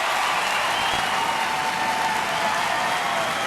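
Audience applause after a group tango at an international standard ballroom dance competition, a steady wash of clapping with faint cheering, even and sustained, heard from amid a large crowd.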